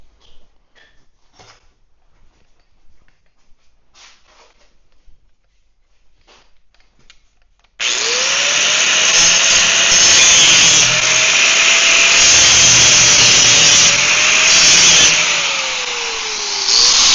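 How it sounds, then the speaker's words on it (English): A power tool cuts and trims a sheet-metal panel for a powder coating oven, starting abruptly after several seconds of near silence with faint handling noises, then a loud, sustained high-pitched cutting whine with a wavering tone. "let's get a pair of safety glasses and let's trim off this"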